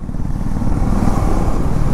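A KTM Adventure 390 motorcycle, single-cylinder at 182 kg, under way, its engine a loud, steady low rumble mixed with wind noise.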